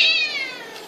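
A single short, bright meow from an attention-seeking cat, close and clear, falling away at the end with no talking.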